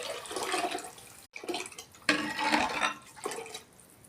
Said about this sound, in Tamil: நம்ம கடலக்கொட்டை வேக வச்சு தண்ணி இருக்கு இல்லைங்களா, ரசத்துக்கு தயார் பண்ணோம் இல்லைங்களா, அது இதில் ஊற்ற போகிறேங்க.